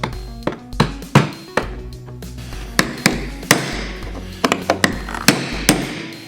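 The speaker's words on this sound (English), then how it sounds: "then we'll take our brass punch and hammer" A hammer taps a brass punch against a metal fuel tank locking ring in a series of sharp, ringing strikes, irregular but steady, close and loud with no talking, while installing a fuel pump in a Chevy Silverado pickup.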